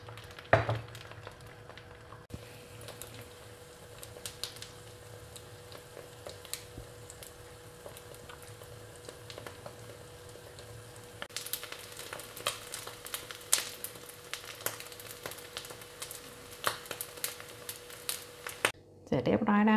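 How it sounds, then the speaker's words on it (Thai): Soft crackling sizzle of an egg frying in a hot pan for a Thai-style fried egg, quiet at first and growing busier, with a clink near the end. "ตั้งกระทะไฟร้อนนะคะจากนั้นใส่ไข่ลงไปเลยค่ะ"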